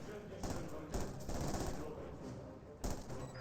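Machine gun fire from an MG position in a Company of Heroes 2 match replay, loud dense bursts of gunfire with sharp bangs mixed in, under a busy battle soundscape.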